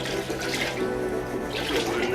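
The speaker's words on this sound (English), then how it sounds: "Just rinse them in the tank water." Sponges from an aquarium setup are rinsed and sloshed in tank water, a close, continuous splashing and trickling wash with brief bursts of louder swishing.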